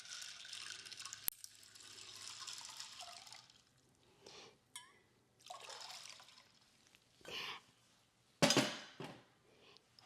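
Filtered fresh water poured from a container over garbanzo beans in a bowl, a steady splashing pour in the first seconds followed by a few short separate pours and drips, fairly close and quiet, with no talking.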